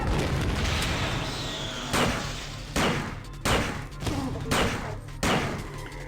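Turret gunfire in System Shock 2 crashes out in repeated heavy bursts, loud booming shots spaced about a second apart and dominating the clip.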